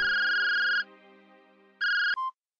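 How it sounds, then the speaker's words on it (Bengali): A cartoon telephone ringtone plays loud and alone: a bright electronic trill, a pause, then a second shorter burst cut off by a click and a brief beep. "আমার স্কুলের বন্ধু মলয়ের ফোন আসে।"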